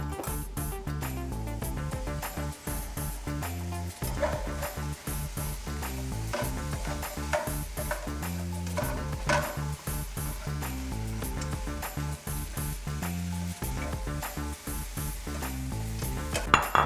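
Eggplant frying in oil with salt, pepper and seasonings in a pan gives a steady, dense sizzle running throughout, with light stirring and occasional utensil taps against the pan.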